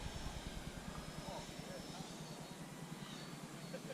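A Freewing F-22 Raptor 90mm electric ducted-fan RC jet takes off and flies, giving a steady whooshing fan roar at moderate distance while a pilot talks over it throughout.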